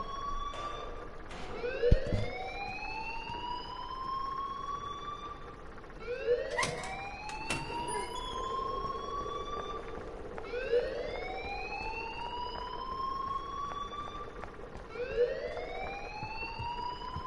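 Rising, wailing electronic alarm tones repeating in long sweeping cycles about every four seconds, a school alarm in the video game Life is Strange, steady and fairly loud with a few sharp clicks mixed in.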